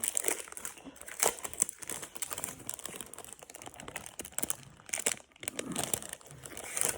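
Stiff hard cardboard packaging being handled and crinkled, a steady run of close crackling, rustling and scraping with small sharp snaps, fairly loud throughout.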